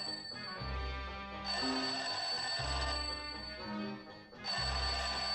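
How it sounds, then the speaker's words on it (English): An old telephone bell rings in repeated bursts, three loud trilling rings with short pauses between them, near and clear, with no voices over it. "Sounds like the phone to me."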